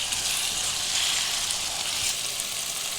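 Chicken curry fries in a pan with a loud, steady, close hiss of sizzling oil that runs unbroken throughout; no one speaks.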